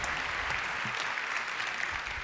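An audience at a German talk-series event about intelligent devices applauds a volunteer on stage, a steady, even clapping that fills the room for a couple of seconds without speech.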